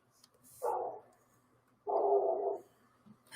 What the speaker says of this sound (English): There's a dog barking outside.